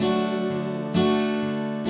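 An acoustic guitar strummed in a boom-chuck pattern for a folk song, with steady alternating bass notes and chord strums, close and full, no voice.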